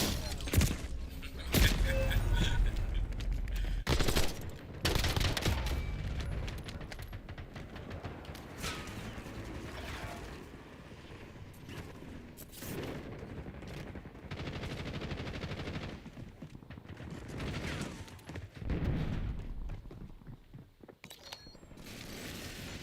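Bursts of automatic weapon fire and mechanical clatter from a squad-based shooter video game, loud and dense in stretches with brief lulls, under game voice announcements.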